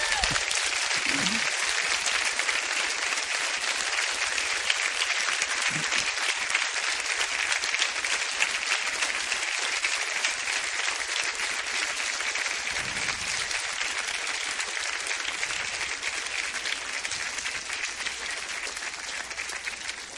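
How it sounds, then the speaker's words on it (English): Loud, sustained audience applause at a semifinal show, a thick continuous roar of clapping lasting the whole stretch with occasional voices and cheers poking through. "I want to hear the loudest applause from you all"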